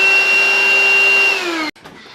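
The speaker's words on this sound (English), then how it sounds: "Vacuum the couch." A children's stick vacuum cleaner whines steadily and loudly with a constant motor tone, then winds down slightly and cuts off abruptly near the end, leaving a brief faint noise.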